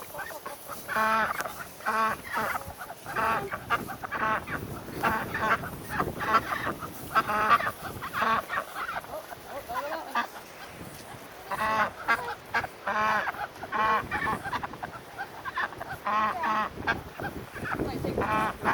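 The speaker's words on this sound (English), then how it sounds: "You have 4 ducks? 4 ducks." Ducks on a farm calling repeatedly, a loud run of honking, nasal quacks in irregular bursts close by, with brief pauses between groups of calls.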